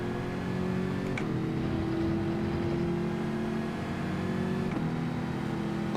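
A Bugatti Veyron engine in Gran Turismo 7 during a Group 4 online race at Circuit de Catalunya: a steady, moderately quiet engine drone holding its pitch, with small shifts in tone around two gear changes, and no talk.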